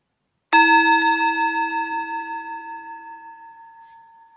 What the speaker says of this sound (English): When you hear the next bell, use this bell to draw a few more deep breaths